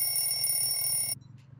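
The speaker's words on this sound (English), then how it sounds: "That's the oven timer." An oven timer rings with a bright, continuous electronic trill for about a second before cutting off abruptly, leaving faint room noise.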